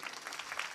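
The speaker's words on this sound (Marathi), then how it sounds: "टाळ्या वाजवा ना जोरदार" Brief burst of dense audience clapping at a Marathi devotional discourse, steady and fairly loud with no voice over it.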